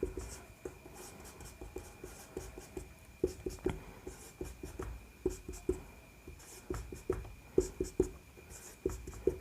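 Chalk or marker taps and scratches across a board as chemical structures are written out, a string of short, close strokes and clicks at an uneven rhythm, alone with no talking.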